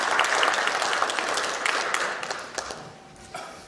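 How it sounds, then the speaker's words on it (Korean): An audience at a law professors' press event applauds to thank a professor, a full continuous patter of clapping that gradually thins and fades toward the end. "다시 한번 감사의 박수 부탁드리겠습니다."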